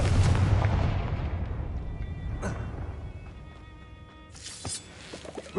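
Confringo fire spell explosion in Hogwarts Legacy on PS5, a heavy booming blast that rumbles and slowly fades, followed by a sharper crackling burst near the end.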